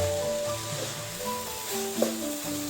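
Green chillies sizzle steadily in hot coconut oil with curry leaves, mustard seeds, onion and coconut for a Kerala cabbage thoran, a close continuous frying crackle with light stirring and no talk.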